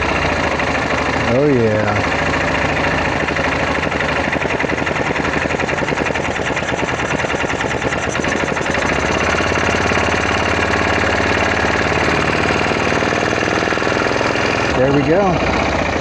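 A Yamaha Kodiak ATV engine runs after a carburetor replacement, a loud, rough, knocking chug held steadily up close, while someone speaks briefly near the start and end.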